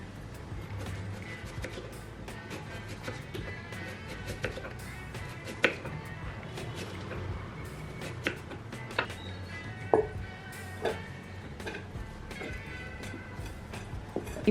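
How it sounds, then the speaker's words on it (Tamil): A knife chops a fish into frying-size pieces with sparse, sharp knocks on a board at an irregular pace, over a steady low kitchen hum. "ஸோ ஒரு மீன் துண்டு மாதிரி நம்ம இந்த சைஸுக்கு கட் பண்ணி எடுத்துக்கிறோம்"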